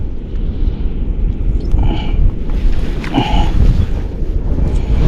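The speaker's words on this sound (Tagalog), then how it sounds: "Lumakas na yung hangin guys." Strong wind on a sunny seashore buffets the microphone with a loud, continuous low rumble and gusting roar throughout.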